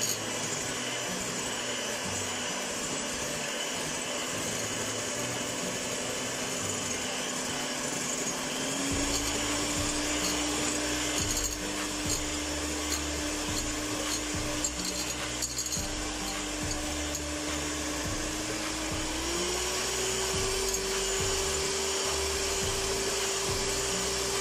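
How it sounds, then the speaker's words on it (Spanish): An electric mixer whirs steadily as it beats cake batter with added sugar, a loud continuous motor drone whose pitch steps up twice as the speed increases. "voy a seguir batiendo para que se integre perfectamente"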